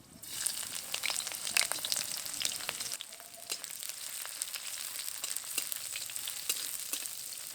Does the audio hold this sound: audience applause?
no